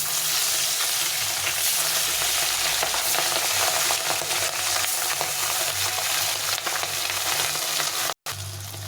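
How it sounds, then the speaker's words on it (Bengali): Pabda fish frying in hot oil in a pan gives a loud, steady sizzle and crackle that runs without a break, with one very brief dropout near the end and no talking. "বাকি মাছটা ভাজা হয়ে গেছে মাছগুলো উঠে নেব"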